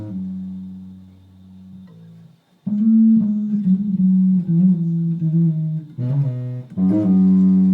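Bass guitar picks out a song intro with hammer-ons and pull-offs, a short phrase, a brief pause, then a denser run of legato notes played alone at close range.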